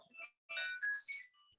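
A phone ringtone chirps quietly in a short melodic burst of bright electronic tones after a brief pause, alone and fairly faint.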